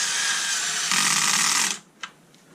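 A power screwdriver backs screws out of a Bosch hedge trimmer, giving a loud, high-pitched whine close by that rises partway through, then stops, followed by a single small click.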